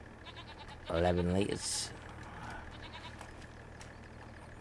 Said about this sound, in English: Look. Our little goaties. There's quite a few in there.